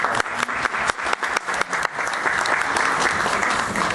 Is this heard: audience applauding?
yes